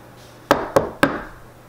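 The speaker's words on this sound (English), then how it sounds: "Knock on wood." Three sharp knocks on wood, evenly spaced and close, with a short resonant ring after each one and no talk.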